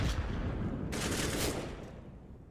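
AK rifles spray in a Counter-Strike esports match: sustained rapid automatic gunfire that intensifies into a dense burst midway, then tails off, with game ambience underneath.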